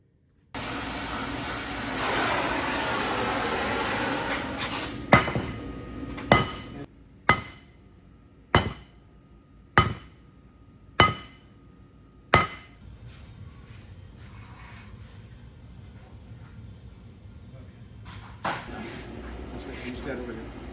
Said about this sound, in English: we're going to heat the very lower sections to get it almost to a lemon yellow color so that we can upset it.